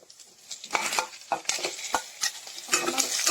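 Chicken pieces are stirred in a hot pan, uneven scraping and clattering strokes of a spatula against metal over a light sizzle, close and busy, with no talk.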